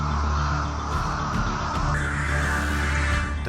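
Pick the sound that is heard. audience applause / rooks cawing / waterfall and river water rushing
rooks cawing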